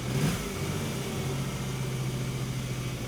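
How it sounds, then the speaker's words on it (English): Small Geo Metro car engine running at a high idle and revving up, a steady close drone with a sustained low hum throughout, no talk. "I think it's idling too high when it revs up"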